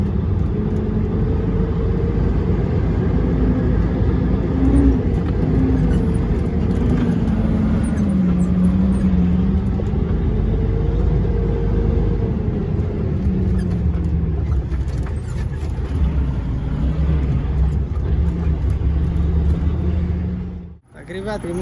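A DAF dump truck drives slowly along a forest track, its engine a steady low rumble with shifting tones and rattles throughout, heard from inside the cab while someone talks over it.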